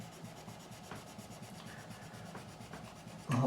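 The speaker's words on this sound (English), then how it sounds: "I'll cut the nut slots just so I can get the action lower at this end." A file rasps across the nut slots of a Takamine ESG-45SC acoustic guitar in quiet, repeated short strokes, closing with a louder knock at the end.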